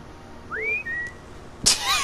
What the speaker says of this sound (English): Innocent whistle.